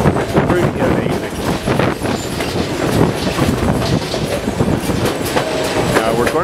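White Pass & Yukon Route train on the Summit section of the railway, a loud continuous rumble and rattle of rolling carriages with clacking wheels and wind buffeting close to the microphone, with talking mixed in.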